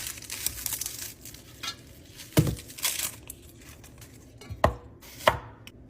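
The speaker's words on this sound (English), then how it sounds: "So I cut the onion in half" A knife cuts through a white or yellow onion on a board, giving a few sharp, loud chops separated by quieter rustling and handling.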